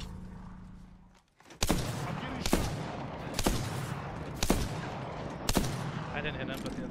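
Gunfire in the Apex Legends video game: after a brief lull, loud bursts of rapid shots break out, with five sharp, heavy blasts standing out at roughly one-second intervals over a continuous rattle of fire.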